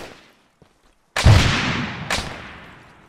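A frag grenade detonating in ArmA 3: after near silence with a couple of faint ticks, one loud, deep blast booms and rolls away, followed by a second, lighter explosion or echo about a second later.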